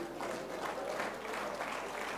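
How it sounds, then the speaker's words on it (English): Clapping from a church congregation during a sermon, a steady broadband patter of many hands that holds at an even level throughout. "Clap if you are clapping."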